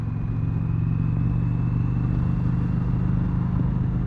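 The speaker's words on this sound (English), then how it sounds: "Harley has a little bit of a rumble to it that you don't really get." A 2020 Harley-Davidson Road Glide rumbles steadily while being ridden, a deep, even, throbbing engine note held close and loud for a few seconds with wind noise above it.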